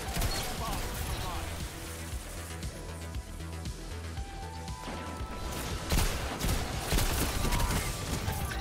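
Rapid Destiny 2 gunfire crackles in bursts beneath an ongoing player commentary, close and steady with a few sharper shots toward the end.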